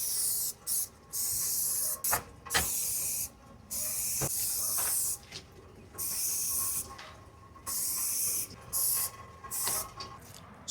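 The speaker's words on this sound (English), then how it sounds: "Spraying around your garbage cans is an ideal place to put this." Fly insecticide sprays in repeated short, sharp hissing bursts around garage doors, each blast a second or so long with brief gaps between, close and loud.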